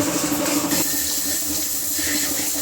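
Running water washing bicycle hub parts such as the QR adapter and spacers, a loud, close rush like a tap pouring, with a brief shift in the flow partway through.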